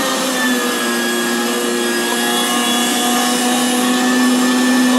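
An electric meat grinder works deer meat for bratwurst, giving a loud, steady motor whine with a constant grinding hum that holds without a break.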